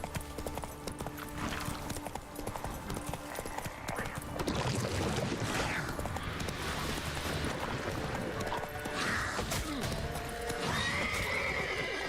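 Roach, a video game horse, gallops with rapid clip-clopping hooves and lets out a neigh and whinny over steady game ambience.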